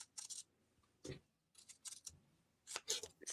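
Scissors snip through quilting fabric for quilt blocks in a quiet room, with several short, crisp cuts in irregular bursts and brief silences between them.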